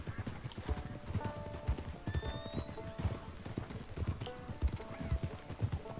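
Rhythmic clip-clop of hooves in Red Dead Redemption 2 keeps a steady trot throughout, with a horse whinnying partway through; moderately loud with a synthetic, game-like quality.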